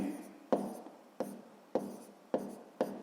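Pen writing numbers on paper while labelling a point for a sixth-grade maths exercise, close and faint, five or six short scratchy strokes in a regular rhythm.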